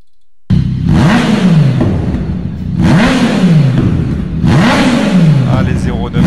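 A motorcycle fitted with an oversized aftermarket exhaust revs loudly three times, each rise climbing high then falling away, close by and steady between bursts, with a voice speaking over it.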